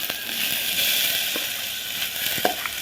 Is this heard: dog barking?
no